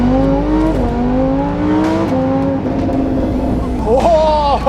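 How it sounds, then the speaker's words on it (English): A Lamborghini Huracan with an aftermarket exhaust revs loudly close by, its engine note climbing in several rising sweeps broken by quick shifts, ending in a sharp blip. "There aren't many cars in this price bracket which sound as good as this Huracan."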